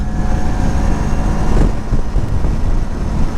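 A Sym MaxSym TL 508 500cc scooter accelerates hard. Its exhaust gives a loud, continuous roar mixed with rushing wind noise, peaking briefly in the middle.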